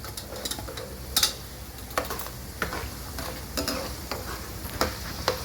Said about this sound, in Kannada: ಕಡಲೆಬೇಳೆ, ಉದ್ದಿನಬೇಳೆ ಚೆನ್ನಾಗಿ ಫ್ರೈ ಆಗಿ